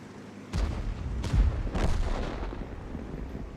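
Artillery barrages boom in a war video game. Several deep, rumbling blasts come from a distance and roll into one another over a low, continuous battlefield rumble.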